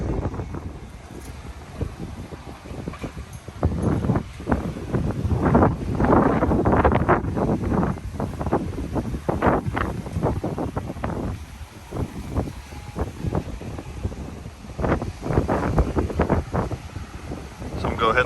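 Gusty coastal wind buffets the microphone on a beach beside the Surfside Pier construction site, a loud, continuous low roar that swells and dips in uneven gusts for the whole stretch.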